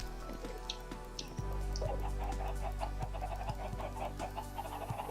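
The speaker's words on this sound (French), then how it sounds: "Je vais faire descendre des poules." Chickens in the Minecraft video game cluck in short repeated bursts over a constant droning hum and scattered game sounds, with no voices.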